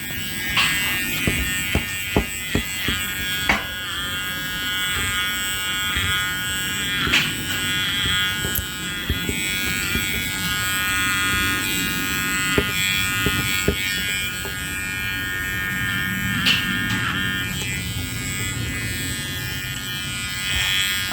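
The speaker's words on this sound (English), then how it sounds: "Like this, if you have a little trimmer." A Wahl Bravura Mini trimmer buzzes steadily close by while clipping a long-haired guinea pig's coat, its even electric hum broken by small clicks and rustles throughout.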